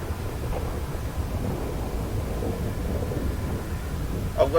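Rain and rumbling thunder in a GTA video game, a steady low roar of storm noise throughout with a brief louder crack at the very end.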